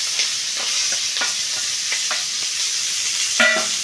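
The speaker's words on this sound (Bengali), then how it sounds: "দিয়ে ভালো করে এটাকে আমি একটু ব্রাউন করে ভেজে নেব।" Chopped onion and whole garam masala sizzle loudly in hot oil while a spoon scrapes and stirs through the pan in irregular close knocks.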